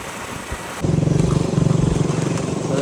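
A motorcycle idles up close just after being parked, its engine settling into a steady, throbbing putter that kicks in after a short quieter moment and carries on to the end.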